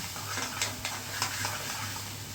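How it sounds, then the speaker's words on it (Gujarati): Gravy frying in a pan over a high gas flame gives off a steady, close sizzle, with faint scraping stir strokes breaking through now and then. "સેજ ગ્રેવીને ફ્રાય કરીશ"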